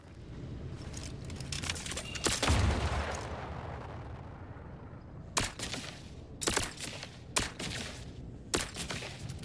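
Pistol fire in the video game The Outer Worlds 2: a few sharp shots early, then a quick run of separate cracks later, loud and close over a low background rumble.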